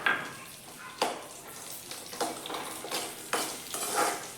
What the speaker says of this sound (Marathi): थोडासा आपला खोबऱ्याचा कलर चेंज होईपर्यंत आपण हे भाजून घेऊयात व्यवस्थित